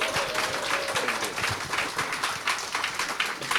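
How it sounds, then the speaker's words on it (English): Audience applause at a community thank-you gathering: dense, steady clapping from many hands, fairly loud and sustained throughout with no pause. "Can everyone give a big applause?"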